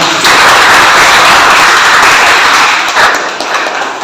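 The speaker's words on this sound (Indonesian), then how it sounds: "kasih tepuk tangan untuk teman-teman" A classroom of students claps for their classmates in a loud, steady burst of dense applause that fills the room, then thins and fades toward the end.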